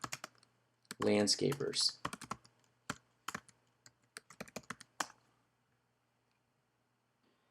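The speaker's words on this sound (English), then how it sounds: "We're going to type in, let's say, Newport Beach" Keys clatter on a computer keyboard while a search phrase is typed, in dense close bursts of rapid keystrokes followed by scattered lighter taps. A person speaks briefly amid the typing.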